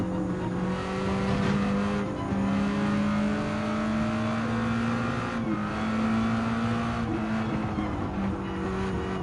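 Race car engine from the Gran Turismo 7 video game, racing a GR Supra GT4 against an NSX Group 4, a loud sustained drone with shifting pitch through gear changes and brief tire squeals.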